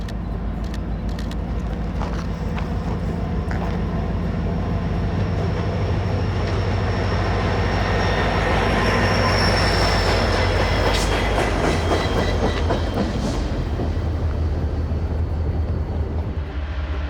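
A Conrail freight train rumbles steadily past in the Sinnamahoning Valley with continuous wheel clatter and rail noise, loud and close throughout, with metallic squeals rising in the middle.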